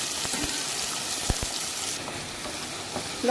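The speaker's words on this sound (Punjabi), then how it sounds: "ਪਿਆਜ਼ ਤੇ ਸ਼ਿਮਲਾ ਮਿਰਚ ਨੂੰ ਆਪਾਂ ਹਿਲਾਤਾ" Onion and bell pepper fry in hot oil in a pan, a steady close sizzle broken by a few soft knocks and scrapes as the vegetables are stirred.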